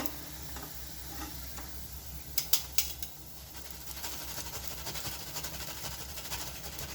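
Oil sizzles softly and steadily as potato-stuffed bread rolls fry, with a few sharp pops and ticks breaking through the low hiss.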